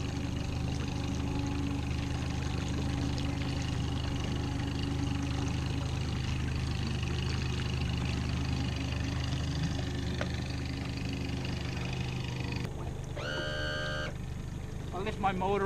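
Outboard motor on a boat running steadily at close range, a low continuous drone with a brief rise in throttle near the end while people talk over it.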